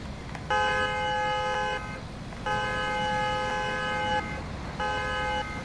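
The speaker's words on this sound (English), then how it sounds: "The horn in there as well, it's a car horn." A BYD eBus 12m in Bus Simulator 21 sounds its car horn in three long, steady honks, each lasting over a second with short gaps between, loud over a low engine hum.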